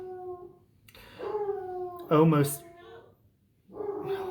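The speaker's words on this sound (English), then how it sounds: "my dog's barking." A dog barks and howls in a drawn-out, tonal series of cries with a sharper yelp in the middle, fairly close, as a person briefly speaks.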